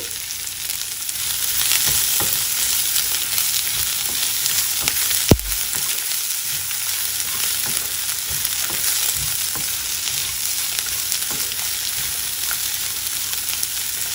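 Thinly sliced onion frying in a pan for tomato mint chutney, a steady close sizzle with occasional scraping stir strokes and one sharp clink, continuous with no talk.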